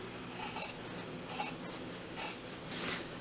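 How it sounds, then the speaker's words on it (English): Scissors trimming the fabric seam allowance on a sewn zipper flap crossbody bag, a few short close snips and rasping cuts spaced about a second apart, heard alone. "you can trim down this seam allowance"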